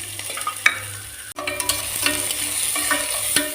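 Chopped onions sizzle in hot oil while a utensil stirs and scrapes the pan, with occasional clinks over a steady frying hiss.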